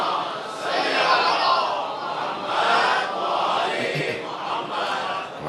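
A mosque congregation at a majlis chants the salawat together, a loud massed wave of voices swelling and easing in several long surges, sounding close and filling the room.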